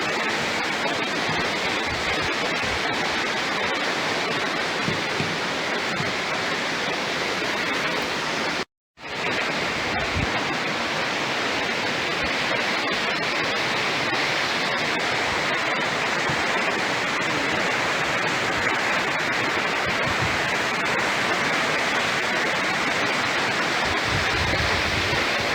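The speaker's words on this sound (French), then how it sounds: "Voilà la belle rivière." A fast-flowing mountain river in Guatemala roars as a steady, dense wash of rushing water, loud and close, with one brief dropout partway through.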